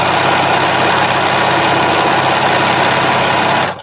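A vintage 1950s Japanese-made sewing machine motor runs with a steady, dense whirring drone, unbroken for several seconds before cutting off abruptly at the end.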